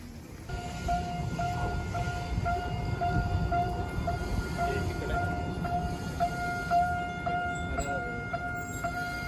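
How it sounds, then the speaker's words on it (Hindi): A small two-car train runs in Arashiyama, Kyoto, producing a steady rolling rumble with a sustained tonal whine or horn-like hum throughout, fairly close and continuous. "बघा किती छोटी 2 कारची ट्रेन आहे."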